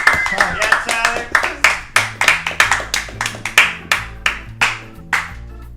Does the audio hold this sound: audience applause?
yes